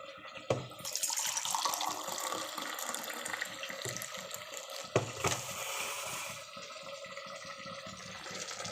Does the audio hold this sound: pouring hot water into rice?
yes